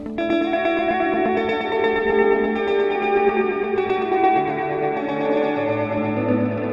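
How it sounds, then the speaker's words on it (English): Dense, washy distorted guitar tones through stacked delays with sustain pile up into a continuous shimmering wall of repeating echoes, sustained and layered with no gaps. "Let's add a delay with a sustain."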